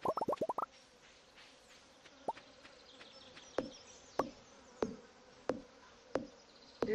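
Buzzing bees in the farming video game Stardew Valley, a soft, steady hum under a run of quick plucks followed by sharp, evenly spaced ticks, with no one talking.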